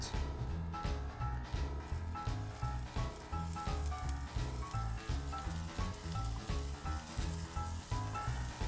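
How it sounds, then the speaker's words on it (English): Onions and garlic frying in oil in a Korean-style pot, a steady close sizzle with a faintly pulsing texture as they are stirred, running without talk throughout. "Heat your pot with some oil and fry the onions and garlic."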